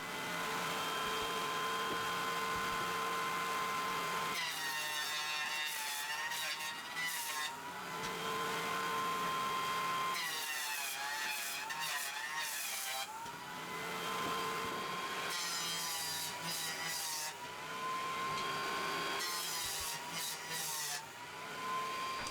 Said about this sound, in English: I'll be cutting both of them again on the table saw and then the planer.